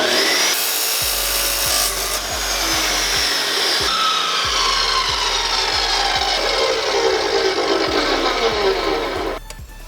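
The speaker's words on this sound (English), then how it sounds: "I went ahead and treated myself to a chop saw" A chop saw cuts angle iron with a loud, continuous grinding screech, the blade's whine sliding slowly as it bites through the steel over about ten seconds before it stops abruptly.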